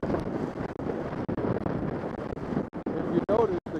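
Strong gusting wind of about 45 mph buffets the microphone high on a ski mountain, a rough roaring rumble with brief dropouts, and a voice speaks over it.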